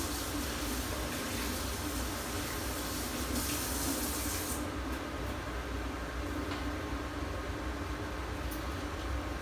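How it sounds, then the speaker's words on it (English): Tap water runs steadily into a kitchen sink as hands are washed while cooking, a close, even hiss that carries on alone with no talk. "I'll just wash my hands"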